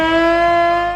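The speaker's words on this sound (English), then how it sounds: "Next is air raid siren." Air raid siren sounding as a loud, steady, sustained tone with rich overtones, close and alone, fading slightly at the end of a one-second blast.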